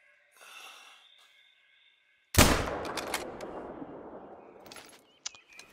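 A single loud rifle shot cracks sharply after a quiet stretch of faint ambience in the hunting game Hunter: Call of the Wild, New England, then rings out in a long decaying echo with a few small clicks.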